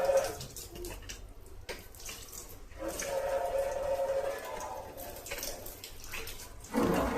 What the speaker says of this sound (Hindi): आउट से पानी आ रहा है, देखिएगा।